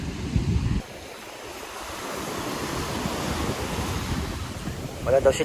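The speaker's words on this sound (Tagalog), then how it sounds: "Malakas ang hangin." Strong wind roars steadily against the microphone at a South China Sea island beach, with a rushing surf-like wash throughout and a brief gust-buffeted burst at the start.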